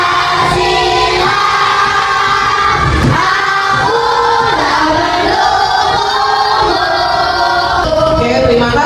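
Classroom of students singing the Indonesian national song Garuda Pancasila together, a loud, energetic group of young voices carrying the melody in unison with sustained, shifting notes.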